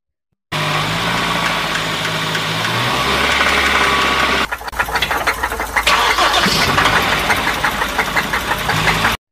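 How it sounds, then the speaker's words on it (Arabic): A car engine runs with a rough, uneven rumble, then shifts to a harsher, rattling knock partway through, loud and steady with no talking. "والأصوات غير الطبيعية في المحرك بتدل غالبا على وجود مشكلة"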